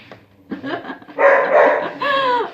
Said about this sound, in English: Oh, now the dog's barking at Pawpaw.